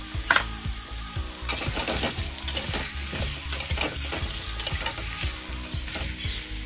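Cubes of papaya and pumpkin fry in a pan, giving a steady sizzle broken by frequent scraping and clattering stirring strokes in an uneven rhythm, close and moderately loud, with no talk.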